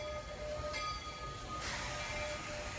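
Train running on a small-gauge track carrying Roger's yellow cars, a steady rolling rumble with faint hiss and a couple of brighter squeals, moderately distant and continuous, with no voices.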